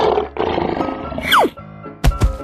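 An animated lion's roar, loud and close, comes with a swooping cartoon effect midway and two sharp thumps near the end, with no talking.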